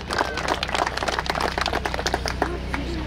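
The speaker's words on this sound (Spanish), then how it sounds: "Para quien por favor le pido un fuerte voto de aplauso." Guests at a wedding reception in San Lucas, Vinchos, applaud with dense, steady clapping from a crowd, a continuous patter of many hands over a low background hum.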